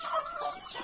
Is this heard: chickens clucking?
yes